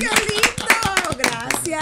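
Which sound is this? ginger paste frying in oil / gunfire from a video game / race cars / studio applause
studio applause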